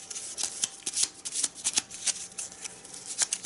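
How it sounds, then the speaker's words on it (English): Arkham Horror unique item cards are shuffled by hand in a continuous, rapid papery riffle of close, crisp card strokes, with no talking. "So just give it a shuffle."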